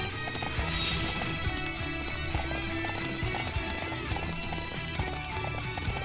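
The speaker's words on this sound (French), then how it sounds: "LT permet d'appeler le cheval." A summoned horse gallops in Samurai Warriors 5, rapid rhythmic hoofbeats running on with game music and faint ambience behind them.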